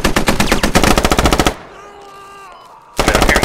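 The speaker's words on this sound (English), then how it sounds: "I'm hearing shots to my north." Video game gunfire: a loud, close automatic weapon fires rapid, evenly spaced bursts, stops for about a second and a half of quieter ambience with faint tones, then the fast firing resumes.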